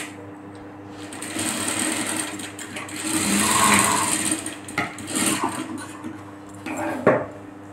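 A sewing machine runs in a tailoring class, stitching a blouse front, its fast steady needle clatter carrying on for several seconds with brief pauses and faint handling noises.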